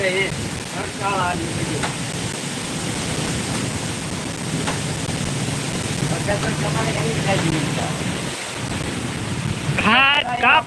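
Steady roaring wind with broadband rushing noise throughout, constant and loud, with brief voices breaking in at the start and end.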